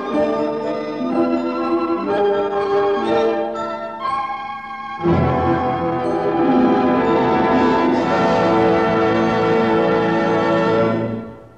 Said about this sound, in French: jusqu'à ce que son attention fût attirée par le carillon des cloches d'un temple